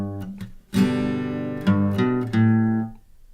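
An acoustic guitar plays a bass-note-and-chord pattern from a song lesson: a few soft single plucks, then three ringing chord strums that sustain and fade, close and clear with no talking.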